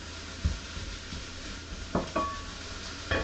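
Onions frying in a pan over lowered heat, with a constant soft sizzle and several clinks and scrapes of a utensil stirring them, close and without speech.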